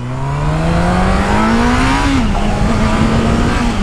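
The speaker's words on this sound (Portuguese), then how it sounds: "Esse barulho dessa moto é muito ruim." A loud motorcycle engine drones steadily, its pitch climbing and then holding in a sustained rev with a rough, buzzing edge, no voices present.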